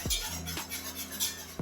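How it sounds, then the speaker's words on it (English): A whisk scrapes through a thick paste of flour and milk in a pot, giving a few soft, separate strokes close by against a low background hum. "Thick paste you can whisk perfectly."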